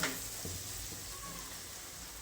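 Soft, quiet sizzling with faint scraping and stirring as masala spices sauté in a pan over low heat for dum aloo, with no voices.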